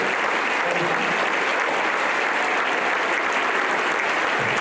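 An audience gives a sustained, dense round of applause honoring teachers of the year at an awards event, loud and even from start to finish with no talking.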